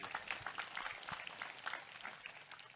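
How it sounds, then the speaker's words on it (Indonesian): Faint, distant applause from an audience at an Islamic Mawlid gathering in Aceh, welcoming the deputy regent: a steady, dense patter of many hands clapping throughout, with no clear talk over it. "Tepuk tangan untuk Pak Wakil Bupati"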